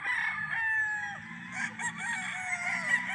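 Roosters crow loudly and continuously on a game farm, several birds overlapping nearby, with steady farmyard clucking underneath.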